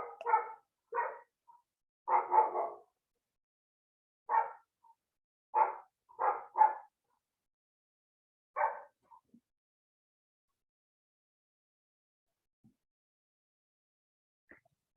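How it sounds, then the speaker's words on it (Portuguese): A neighbour's dog barks in short clusters of sharp yaps, repeated irregularly for about nine seconds before falling silent, moderately loud and somewhat distant, with no one talking. "Se o cachorro do vizinho também atrapalha vocês assistirem a aula."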